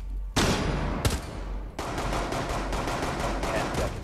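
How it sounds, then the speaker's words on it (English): Gunfire in a video game hostage-rescue match: a sharp, loud shot followed by sustained rapid firing and crackle, with some voice chat faintly present. "he's trying to shoot me"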